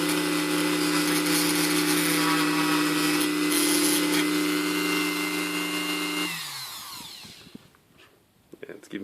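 A power tool spinning at 1500 RPM cuts material for a scratch-built 1/35 scale model air horn, giving a loud, steady motorized whine that winds down abruptly, followed by light clicks and handling noises.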